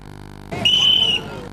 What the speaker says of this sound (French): Ces coups de sifflet donnent le départ de la caravane de sécurité routière